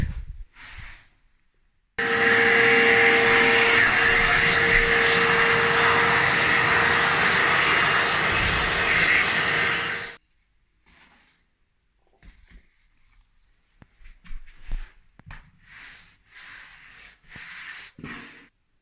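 A hand tool scraping across OSB floor boards before tiling makes a loud, steady, rasping hiss for about eight seconds. It is followed by quieter scattered scuffs and knocks.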